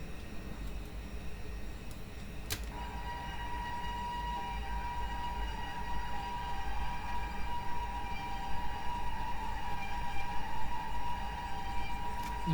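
Simulated running of the Ahmedabad Mumbai Double Decker Express in the MSTS train game: a steady rumbling rail roll with a sustained horn-like tone joining partway through, continuous and moderately quiet.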